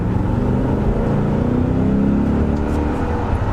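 Inside a 2002 BMW E39 M5, the stock-exhaust V8 revs in second gear with a continuous smooth, deep engine drone that rises gently in pitch.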